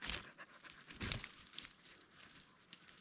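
A dog pants in rapid, steady breaths close by during a night camping in the woods, with some faint crinkling rustle mixed in and no talking.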